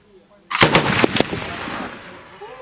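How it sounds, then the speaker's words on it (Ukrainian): A single loud, close gunshot cracks out from a firing position during military training, after a moment of quiet, followed by a rolling echo that slowly fades. "Постріл!"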